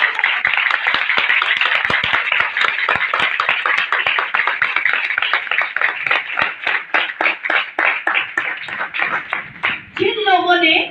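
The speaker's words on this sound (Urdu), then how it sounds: "زوردار تالیاں بجائیں" Loud, sustained clapping from a church congregation fills most of the clip, the dense claps thinning into a slower rhythm toward the end, where a voice speaks or sings over it.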